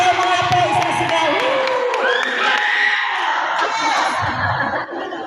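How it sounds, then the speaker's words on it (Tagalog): A crowd of children shouts and cheers together, loud and sustained, with scattered laughter mixed into the noisy din. "Isang sigaw, mga apo, isang sigaw."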